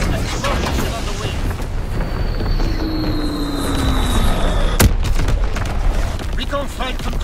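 Artillery bombardment explosions in Call of Duty WW2 thunder as a dense, continuous rumble of blasts, with one sharp, loud crack near the end, over a busy battlefield din and occasional game voice lines.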